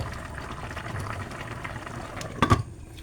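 Laing simmers in coconut milk with a soft, steady bubbling hiss, broken near the end by a brief louder clatter.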